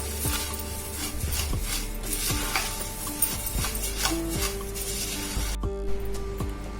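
A spoon stirs crushed green chili paste into wet bhel in a bowl, making a series of close, rhythmic scraping and clinking strokes against the container, with no talking.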